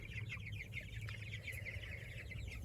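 Young chickens in a pen cluck and peep together in a steady, fairly faint chorus, with no talking.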